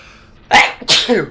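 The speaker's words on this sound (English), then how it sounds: "to get a good sneeze though. Very good sneeze" A person lets out one forceful sneeze, a brief quiet breath-in followed by two sharp, loud bursts close to the listener.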